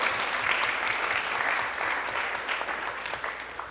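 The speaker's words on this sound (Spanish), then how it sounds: "un aplauso, vamos a darles un aplauso bien grande también a la compañera Katia" Audience applause at the close of a panel discussion on paths of autonomy and resistance: a dense, steady wash of many hands clapping that holds evenly for the whole stretch without a break.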